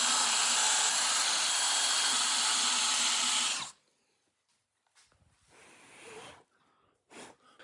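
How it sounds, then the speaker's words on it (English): A power drill whines loudly and continuously for several seconds, then stops, followed by quieter handling noises and breaths. "we're gonna drill all those"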